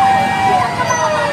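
A fire truck siren wails loud and steady at a house fire on Payatas Road in the Philippines, with busy street noise and voices underneath.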